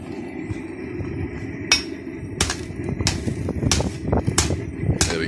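Red-hot pipe is hammered flat into a plow tooth, with sharp metallic blows ringing out at irregular intervals over a busy low rumble of workshop noise.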